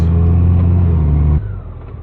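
A Honda Goldwing DCT motorcycle rumbles loudly on a ride as a steady low engine drone, then drops abruptly to a quieter hum partway through.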